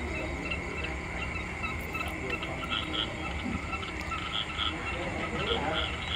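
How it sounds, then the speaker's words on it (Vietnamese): Frogs croak in repeated short calls after rain over a steady wet hiss of background noise, the chorus becoming more regular in the second half. "nghe cái tiếng ếch nó kêu ẹt ẹt ẹt đó bạn"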